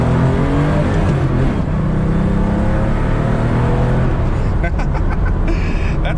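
Porsche 911 Safari on BFGoodrich 215/65 R16 tires doing donuts on dirt, its engine roaring loud and close with a sustained rev that wavers as the car circles, no talk over it.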